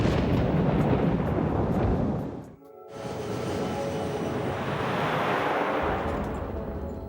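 Severe thunderstorm thunder rolling as a loud, deep rumble, dropping briefly into a short quiet gap before a second long, broad roll swells and lingers.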